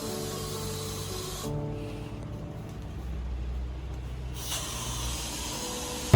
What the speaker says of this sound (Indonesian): semprot baygon dulu ya teman-teman